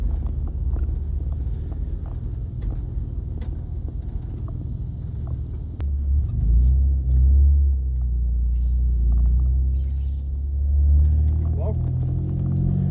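A car cabin holds a low road rumble with soft knocks, and the engine rumble swells partway through as the car gets moving; people talk over it.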